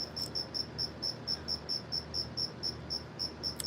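Crickets chirp at night in a steady, rapid series of high pulses, about a dozen evenly spaced bursts over a soft, continuous background hiss, fairly close and alone with no voices.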